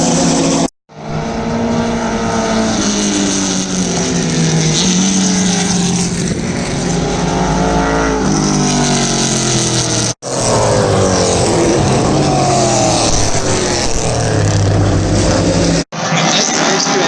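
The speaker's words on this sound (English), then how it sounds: "These are some of the Porsches, I think, or some of the 1970s cars." Vintage 1970s-era race cars roar past on a circuit during a vintage racing event, loud, sustained engine howls rising and falling with gear changes, in several cut-together passes.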